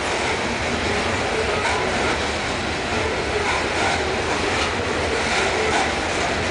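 A loaded Union Pacific northbound freight train rolls past in Kirkwood, Missouri, a loud, close, continuous rumble of wheels and rail noise.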